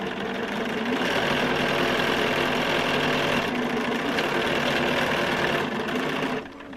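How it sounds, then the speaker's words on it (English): A sewing machine chain-piecing quilt blocks together runs in a steady, continuous mechanical whir with fast rhythmic stitching, close and even, then stops abruptly near the end. "So now I'm sewing together these 2 pieces."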